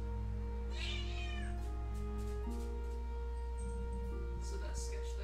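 Close, clear meowing from a domestic cat, a few separate calls spread across the stretch, over a constant low hum and faint background tones.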